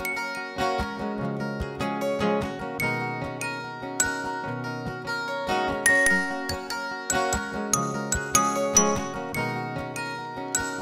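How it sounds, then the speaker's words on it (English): A bell and xylophone sample plays on a music track. Bright, tinkling struck tones fall in a quick, steady repeating pattern with layered chiming notes at moderate volume, and no voices over it. "I'm just gonna throw some bells and I'm gonna throw throw this xylophone sample onto track three."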